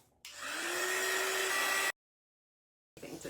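Heat tool drying freshly applied Premier Acrylics Prussian Blue Hue paint on a stenciled rustic coastal patriotic sign: a steady, close whooshing blow with a faint hum that runs about a second and a half, then cuts off into silence.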